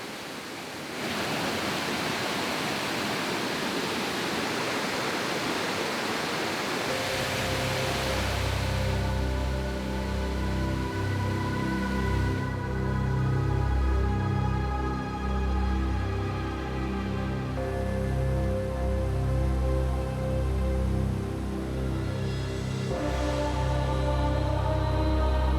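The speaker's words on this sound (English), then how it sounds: "Through the waterfall, the spring-fed river plunges into the canyon of Þingvellir." A spring-fed river's waterfall plunging into the canyon at Þingvellir, Iceland: a loud, continuous broadband roar of falling water, steady throughout with no voices.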